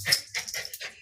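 A dog gives a quick run of close, loud yelps and whines in about a second, each burst sharp and bright with no talk over it.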